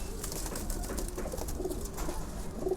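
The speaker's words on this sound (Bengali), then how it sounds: "এই যে আমাদের জাবরা কবুতরগুলো," Jabra pigeons coo in a cage, several soft, rolling coos close by, overlapping with rustling and fluttering in the background.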